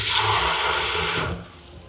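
Water pours steadily into poori dough for about a second and a quarter, a close, loud gush that cuts off sharply and leaves a quiet tail.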